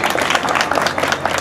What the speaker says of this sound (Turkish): Onun için bir öncelikle alkış alayım hepinizden.